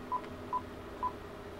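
Three short, evenly spaced DTMF keypad beeps as a home VoIP phone dials an internal extension, clear but fairly quiet over a faint background hum.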